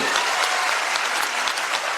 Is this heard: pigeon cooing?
no